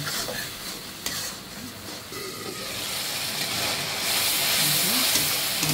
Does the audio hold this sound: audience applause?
no